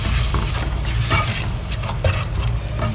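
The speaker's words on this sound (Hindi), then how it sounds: "अब आपने इसे इतना फ्राई करना है कि मसाला और ऑयल अलग हो जाए।" Okra masala frying in oil with spices and tomato puree, a dense close sizzle punctuated by scraping stirs against the pan, steady and fairly loud with no voices.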